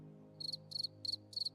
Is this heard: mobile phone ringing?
no